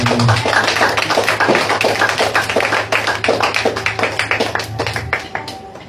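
A church congregation claps loudly and continuously during a preaching service, dense rapid hand claps that form a steady roar and thin out slightly near the end.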